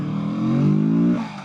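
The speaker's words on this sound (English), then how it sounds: "I love the downshifts." A 2024 Kawasaki Z650RS motorcycle downshifts on a ride, giving a brief rising engine blip that swells and then drops off, loud and close with wind noise.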